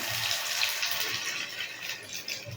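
Battered shola kochu (taro) slices dipped in rice flour hiss steadily in hot oil, a continuous bright frying sizzle with no talk.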